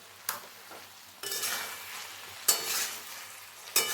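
Chili paneer and vegetables stirred in a sizzling pan, with several distinct scraping strokes of a spatula over a steady frying hiss, close and without talking.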